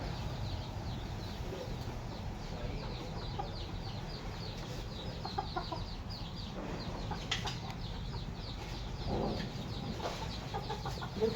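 Chickens cluck softly in a rural household yard, steady and faint at a moderate distance, with background noise and no talk.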